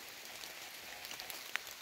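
Light drizzle falls in a yard, a faint, even hiss of fine rain with a few sparse drop taps, one slightly sharper near the end, and no voices.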